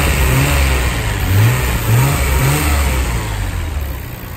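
A Nissan GTR R32 engine in stock condition being revved in short bursts, several quick rising blips over a loud, steady idle rumble, close by with no talk.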